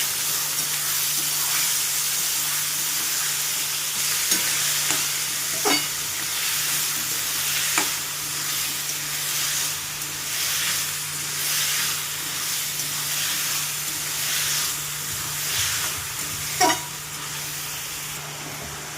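Dal sautéing with salt in a pan for dhemsa sabzi, a steady steamy sizzle with occasional sharp clicks of a spoon against the pan, close and even, over a faint low hum.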